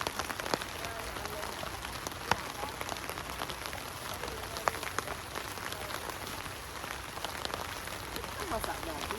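Rain falling at a campsite in Zambales, a dense steady patter with scattered sharper drops, close and even throughout.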